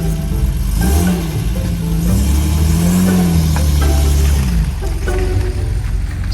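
MGC British sports car driving off, its engine loud and near as it revs up and down in smooth rising and falling sweeps over a steady rumble.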